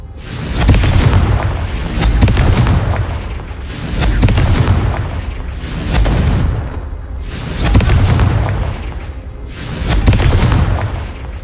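Repeated Confringo fire-spell explosions in the Hogwarts Legacy video game: about six heavy, close booms arriving roughly every two seconds, each with a rumbling tail, with no talking.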